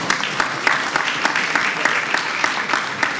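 An audience at a roundtable discussion on migration claps steadily, a moderate, even patter of many hands close by, continuing throughout without voices over it.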